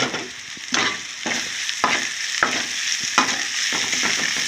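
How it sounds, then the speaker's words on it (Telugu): Onions frying in a pan with chili powder and salt give a constant close sizzle, punctuated by regular scraping strokes of a spoon stirring the mixture. "ఇందులో ఉల్లిపాయలన్నీ బాగా ఫ్రై అయిపోతాయి"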